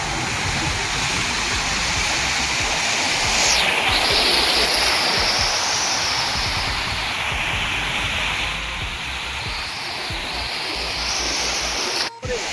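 Sea surf rolls onto the beach at Mandarmani as a continuous, loud wash of rushing water, swelling and easing slightly without distinct pauses.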